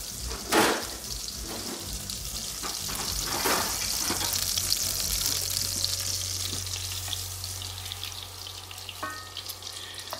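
Half a stick of butter sizzles loudly with carrots in a hot pan for braised-meat ravioli sauce, a steady close frying hiss with a few stirring knocks and a low hum underneath; no talking.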